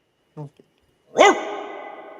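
A dog at home gives a short yip and then a single loud, close bark that rings out briefly, with a voice heard just before.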